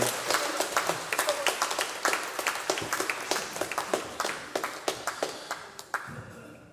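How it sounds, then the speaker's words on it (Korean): Applause from a church congregation, a fairly close round of individual claps in an irregular but lively rhythm, distinct hand strikes standing out clearly before tapering off at the end. "박수 올려드리겠습니다."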